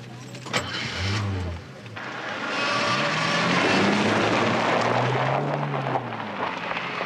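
A car pulls away with a rising engine hum that swells and then eases off, heard beneath a brief jingle of keys and a voice speaking over it.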